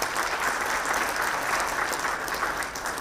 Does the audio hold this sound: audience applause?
yes